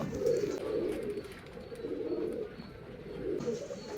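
Girebaaz pigeons coo repeatedly in soft, low, throaty pulses, close by and steady across a few seconds, with faint background noise.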